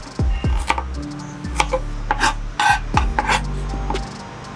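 Vegetables being diced with a knife on a wooden board for a Ugandan rolex, a string of close, sharp chops and scrapes in an uneven rhythm, with a low background hum.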